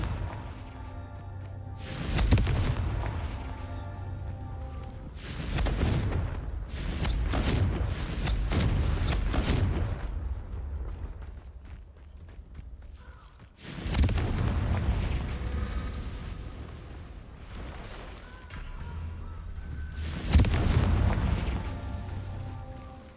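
Confringo fire-explosion spells from the Hogwarts Legacy video game: a series of loud booming blasts with rumbling tails, roughly five bursts spaced a few seconds apart over a steady low game ambience, with no talking.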